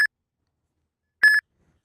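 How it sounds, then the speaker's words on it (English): A phone gives a short electronic beep, then after a pause a longer double beep, an Uber driver app trip request alert, clean and close with silence around it. "Your phone will start beeping, and the screen will flash."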